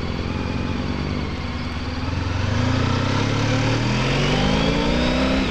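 A motorbike on a road during a commute, engine note rising as it accelerates and passes close by, loud and continuous with a steady droning whine underneath.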